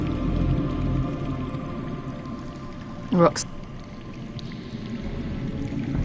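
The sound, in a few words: underground water flowing in Game of Thrones video game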